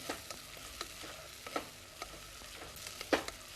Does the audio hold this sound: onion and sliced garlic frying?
yes